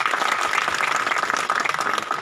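Sustained, loud applause from a crowd welcoming a speaker at a political gathering for a municipal election campaign, dense clapping continuing steadily throughout without a break.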